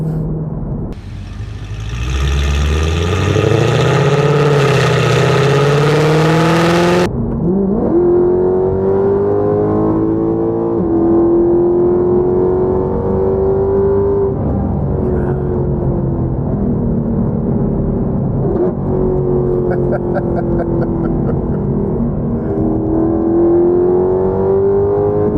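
A 2014 Mercedes-Benz C63 accelerates hard on a closed highway, its engine note climbing loud and close through the gears with a sharp shift, then holding a sustained high-revving drone.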